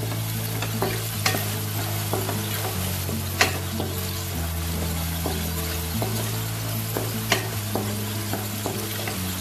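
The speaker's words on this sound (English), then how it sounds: "Then we'll add turmeric powder. Now just stir it nicely." Okra frying in a pan with turmeric powder while being stirred, a steady sizzle broken by sharp scraping clinks of the utensil every couple of seconds, with music underneath.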